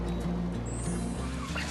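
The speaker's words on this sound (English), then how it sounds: "it's already noisy with chicken sounds since the morning" Poultry in a Cambodian village in the morning, steady busy clucking and gobbling calls layered over one another, fairly close and continuous without pause.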